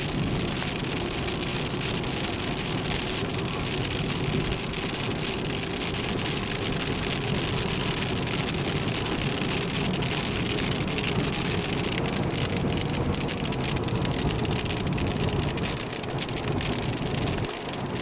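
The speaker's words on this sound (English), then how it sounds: "You can see the rain's got slightly heavier." Rain falling during a drive on a 1999 West Coast USA road trip, a dense, steady hiss of drops that stays loud and continuous throughout with no voices.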